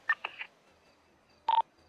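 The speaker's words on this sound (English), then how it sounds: "Brian, I need to give you a quick phone call." Phone dialing tones in Grand Theft Auto V: three quick short beeps in succession, a pause, then one longer tone, crisp and fairly quiet against a silent background with no talk.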